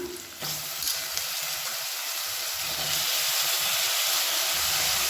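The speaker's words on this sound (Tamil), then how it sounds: "இப்போ இந்த உருளைக்கிழங்கு நல்லா ரோஸ்ட் ஆகி வர அளவுக்கு வதக்கிக்கலாம்." Three medium potatoes, cut into pieces, fry with onions in a pan for masala rice, giving a steady, close broadband sizzle and hiss that runs through the whole stretch with no talking.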